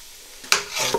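Cardamom seeds sizzling in hot oil for semolina halwa, a short burst of frying hiss and crackle that swells suddenly and holds, close and fairly loud with no talk.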